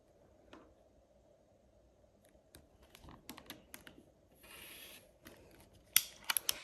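A 5-inch fabric piece is cut in half with quiet, close snips and small handling clicks, spaced unevenly over a near-silent background. A louder sharp cut comes near the end.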